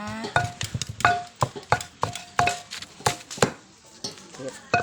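A pestle pounds food in a mortar at a Thai merit-making feast kitchen, striking in a quick, fairly steady series of sharp knocks, with some quiet background chatter underneath.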